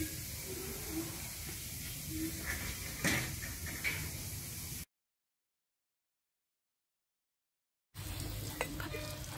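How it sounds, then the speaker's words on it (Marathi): Masvadi, steamed gram-flour rolls, frying in a pan of hot oil in a village kitchen, a soft continuous sizzle with scraping stirs and a clunk, broken by a stretch of silence before the sizzling resumes. "हे आता वड्या तळून घेतोय"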